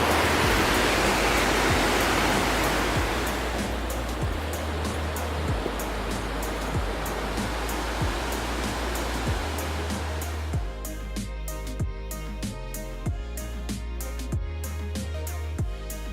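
Mystic Falls in Yellowstone rushes in a steady, loud broadband roar, with faint rhythmic low thumps running beneath it throughout.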